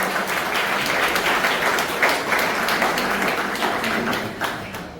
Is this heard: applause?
yes